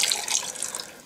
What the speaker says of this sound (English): Got some of our clam juice out of the clams. And we're slowly going to pour that in.